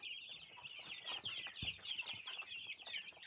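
Cobb 500 broiler chicks cluck and peep busily in a brooder group, with overlapping high chirps and soft calls close by. One short thump sounds midway.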